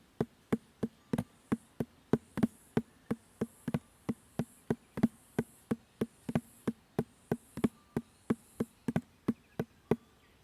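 Handpan struck in a slow, steady paradiddle pattern with drags substituted for some notes, a continuous run of evenly spaced metallic hits, close and clear with no talking.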